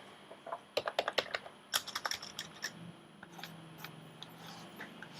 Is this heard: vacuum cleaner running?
no